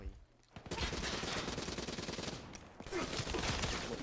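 Rapid bursts of automatic gunfire from a team hardpoint shooter game, loud and dense, briefly pausing near the middle, with a few faint voice fragments underneath.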